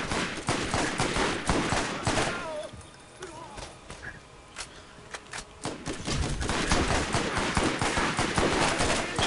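Sniper rifle fire in the video game Borderlands: several loud, sharp gunshots in quick bursts, with a brief lull in the middle before the firing picks up again.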